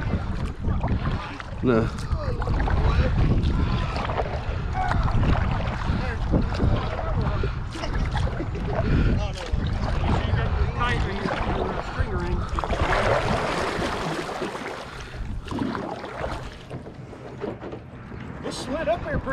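A kayak is pushed and slides across the water of Hoover Reservoir, with hull scraping and water rushing under gusts of wind noise while people talk nearby.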